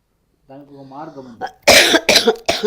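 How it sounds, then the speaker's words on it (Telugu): A person coughs from a throat gone tight after drinking cold fridge water: a short strained vocal sound, then three harsh, loud coughs in quick succession, close by. "అవి అది గొంతు పట్టేసి దగ్గు వస్తుంది అంతే"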